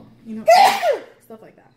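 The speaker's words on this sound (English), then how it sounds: "Bless you." One sharp, loud sneeze bursts out between bits of casual speech, followed by a short quieter sound as talking resumes.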